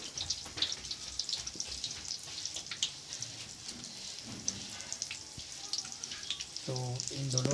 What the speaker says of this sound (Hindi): तो अब है बैंगन के पकोड़े प्याज हरी मिर्च के साथ साथ